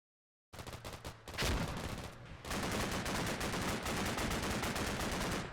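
Gunfire from the Combat Mission: Black Sea wargame, with sustained bursts of automatic fire and sharp shots that crackle loudly and continuously, no speech over it.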